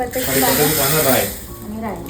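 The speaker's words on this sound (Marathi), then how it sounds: "तेलामध्ये मस्त फोडणी" Spices tempering in hot oil give off a loud, continuous hissing sizzle close by, while a person talks over it the whole time.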